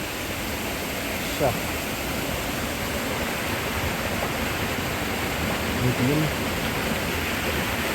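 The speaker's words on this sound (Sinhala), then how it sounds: "ලස්සන වතුර පාරක් යනවා මේ" Continuous rushing of flowing water close by, a steady broadband wash with a couple of brief voice fragments over it.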